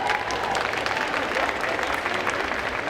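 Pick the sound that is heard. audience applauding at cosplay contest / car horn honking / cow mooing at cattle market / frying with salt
audience applauding at cosplay contest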